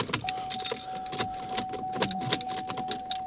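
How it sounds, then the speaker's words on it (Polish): A bunch of car keys jangles close by in repeated metallic bursts, with a faint steady tone humming underneath. "17 kluczy."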